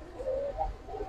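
A Nazra Kaldom pigeon gives a brief, low, soft coo of a couple of warbling notes, heard close and fairly faint with no talk over it.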